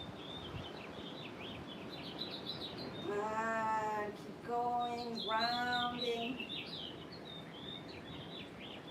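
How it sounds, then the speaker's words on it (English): Birds chirp and sing outdoors in quick repeated phrases, moderately near, with someone speaking calmly over them. "Can you hear the birds?"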